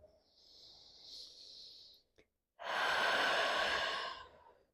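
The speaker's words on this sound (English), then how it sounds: "This time exhale out of the mouth." A yoga practitioner breathes through a slow, steady stretch; a long, audible, breathy exhale out of the mouth comes up close and fairly strong, after a softer hiss of breath at the start.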